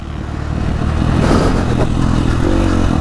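A dirt bike engine revs up and holds a loud, rough, steady roar with some clattering, close by and filling the whole stretch without speech.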